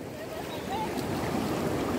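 Ocean waves wash onto the beach along the Salvadoran coast in a steady, rushing roar, mixed with wind buffeting the microphone.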